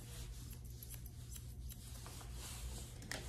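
Scissors snip steadily through a Yorkie's coat during a grooming trim, a quiet, close rhythm of small cuts over soft background hum.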